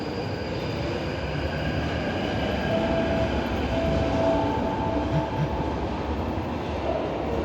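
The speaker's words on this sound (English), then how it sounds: "We're now passing over the train I just got off of," A London Underground Waterloo & City line train runs with a steady, loud rumbling roar and a faint whine, continuous throughout with no voices.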